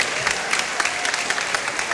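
An audience applauds a student hackathon team, a dense spatter of many hands clapping at steady strength, with a few sharper claps standing out through the two seconds.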